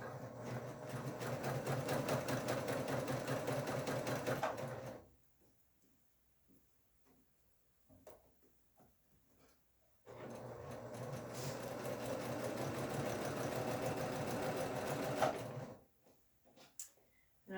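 Home sewing machine chain piecing quilt fabric with a quarter-inch seam, running in two steady rapid whirring bursts of about five seconds each, separated by quiet handling clicks while the next piece is lined up.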